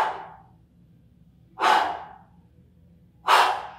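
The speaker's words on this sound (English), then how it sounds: "Breathe, never hold your breath," Steady breathing during a kettlebell static hold, with three distinct breaths at an even, unhurried rhythm: a softer one at the start, then two louder, close exhalations with quiet pauses between them.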